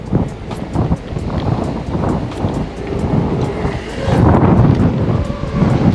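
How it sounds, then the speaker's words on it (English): Steady roaring wind buffets the microphone, rising into stronger gusts partway through, with continuous broadband rumble and no voices. "So it is gusting a little bit."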